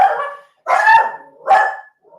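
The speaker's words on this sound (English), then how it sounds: "Sorry about the dog." Dog barking close by, three sharp barks with short gaps between them, loud and clear with no voices.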